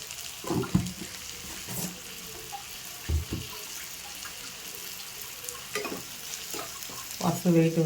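Tomato and onion curry with turmeric stirred and frying in a pan, with intermittent scraping and stirring knocks over a low steady sizzle and a brief trickle of running water, no voices.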